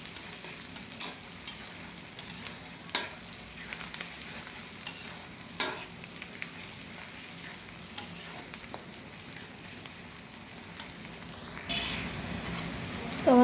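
Onions frying in a pan while beef is being cooked, a steady soft sizzle with occasional stirring clicks and scrapes, moderately quiet and continuous throughout with no talking.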